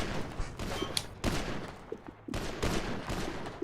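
Gunfire in a GTA roleplay game, bursts of rapid shots rattling in quick clusters with brief gaps between volleys, loud and close, and no voices over them.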